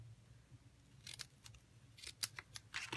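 Scissors snip through paper cardstock while trimming a handmade fall greeting card, a quick series of short, crisp cuts close by that grows denser and louder toward the end, with no voices.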